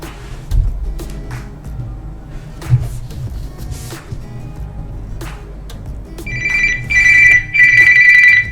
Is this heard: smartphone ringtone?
yes